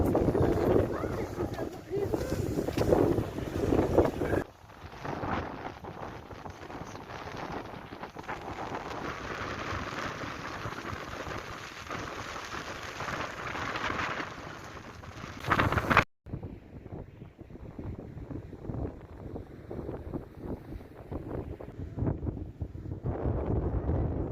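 Strong wind at a beach buffets the microphone in a steady roar, with gusts rising and falling throughout.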